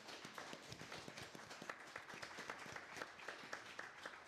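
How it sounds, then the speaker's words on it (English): Applause from a studio audience for a panel, a continuous wash of clapping heard faint and distant throughout, with no talk over it. "can I get a big round of applause for my panelists today?"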